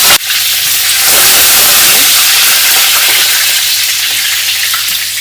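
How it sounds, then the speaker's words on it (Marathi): Mustard seeds crackle loudly in hot oil, then cumin and curry leaves go in, raising a sudden, intense, close sizzle that holds steady throughout. "राई तडतडली की जिरं आणि हा आपला सावा तोडून आणलेला कढीपत्ता टाकायचा"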